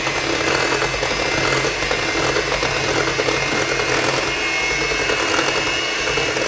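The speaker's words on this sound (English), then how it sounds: "So you want to make sure to blend this up really," A blender runs continuously at high speed, mixing a thick high-protein dessert batter with a loud, steady whirring roar that holds without pause.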